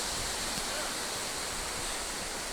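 A river in Fiordland, New Zealand, heard from above as a steady, dense rush of water, even and unbroken throughout.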